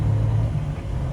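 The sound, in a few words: semi truck engine running while driving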